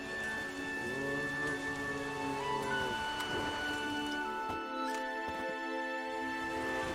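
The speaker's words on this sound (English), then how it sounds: "There's no point standing here in the rain." Rain falling in the video game The Witcher 3: Wild Hunt, a steady hiss under sustained tonal game music, with no talk and no clear drops standing out.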